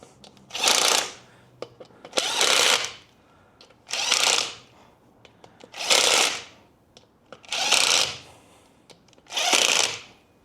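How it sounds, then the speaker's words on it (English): Cam plate bolts on a 2024 motorcycle are tightened with a power tool in six short, evenly spaced, close buzzing bursts, separated by quiet pauses holding faint clicks. "Now I'm going to tighten the cam plate."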